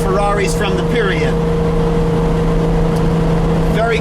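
A 1986 Ferrari 412i with a V12 engine and five-speed gearbox drones steadily while driving with the windows wide open, its engine and exhaust tone loud and constant, with someone talking over it at the start.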